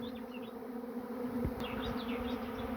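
Honeybees from a swarm that has settled on a hive keep up a close, even buzz, a thick droning hum with single insects darting past the microphone, and no one speaks.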